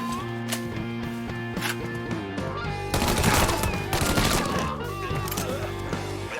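Gunfire in Mafia 3 rings out as bursts of rapid shots, loud and close, with a heavier cluster in the middle, set over a steady musical drone.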